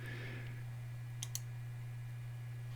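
Two quick, faint computer mouse clicks sound one right after the other over a constant low electrical hum in a quiet room.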